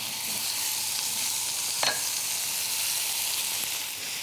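Beef frying in a hot wok with garlic, ginger and chili gives a steady, even sizzle, with one brief sharp clatter partway through.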